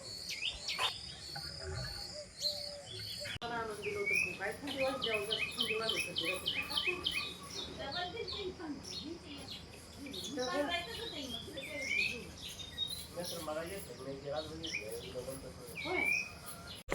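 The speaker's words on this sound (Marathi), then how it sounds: "पक्ष्यांचा किलबिलाट." Many birds chirp and tweet on a village morning, their overlapping calls close and lively, with a steady high insect trill running underneath throughout.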